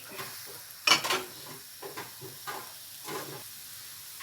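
Pieces of snakeskin gourami fish dropped into a pot of boiling coconut-milk curry, giving a splash followed by bubbling, hissing and light stirring, close and moderately quiet, no talking.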